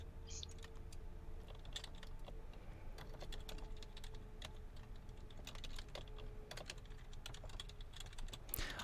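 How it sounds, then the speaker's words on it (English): Someone types on a computer keyboard in quiet, irregular bursts of light key clicks, soft and near, with short pauses over a faint room hum. "I'm just watching you typing."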